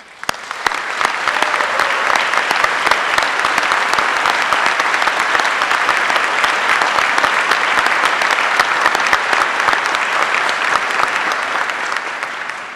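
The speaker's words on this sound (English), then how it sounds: "I invite the audience to join me in a round of applause for SCF's finest" A commencement audience applauds the faculty with loud, sustained clapping from a large crowd, steady for over twelve seconds before tapering slightly at the end.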